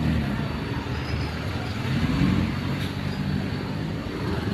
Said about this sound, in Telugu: పొద్దున్న చూడండి ట్రాఫిక్ ఎంత ఉందో